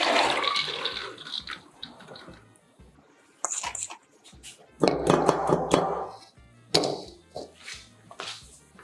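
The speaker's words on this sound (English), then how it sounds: "we are going to wash 5 tablespoons of mung beans or about 70 grams thoroughly" About 70 grams of mung beans are washed in a basin of water, making irregular swishing and splashing bursts with short quieter gaps and occasional drips, close by.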